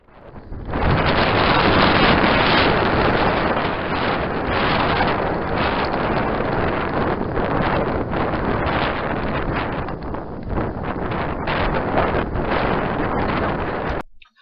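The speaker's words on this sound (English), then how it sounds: "Okay, that was the wind. That was how brutal it was." Strong, brutal wind buffeting a crabbing boat off New Jersey, a loud, steady roaring rush that blasts the microphone almost without a break for about fourteen seconds, covering everything else.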